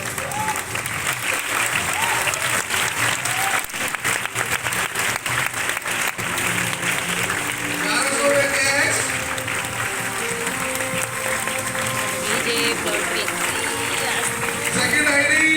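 A crowd claps loudly and continuously at a live gathering while an amplified voice talks over the applause.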